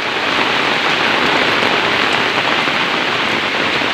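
Heavy, continuous rain pours during a flood on an island, a loud, dense, unbroken hiss of downpour with no voices.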